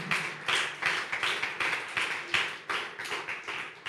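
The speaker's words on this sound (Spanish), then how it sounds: "Denle ese aplauso fuerte a Él." Enthusiastic clapping from a church congregation, steady bursts of applause filling the room without any talking.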